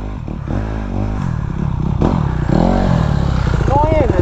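A 2018 Honda CRF 450 enduro motorcycle struggles to start, its engine sputtering and revving unevenly up close while people talk over it.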